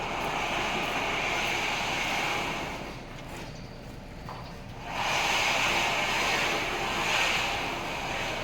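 A newly bought engine runs on a test, giving a steady broadband roar that eases briefly in the middle and then picks back up, loud and continuous with no talking.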